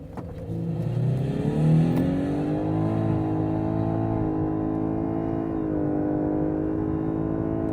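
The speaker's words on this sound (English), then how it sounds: "I'm going to put the car into Sports Plus mode now, and I'm going to launch it" A Lexus LS500h hybrid launching in Sport Plus mode revs up hard and holds a rising, whiny drone as it accelerates, fairly close and steady without talk.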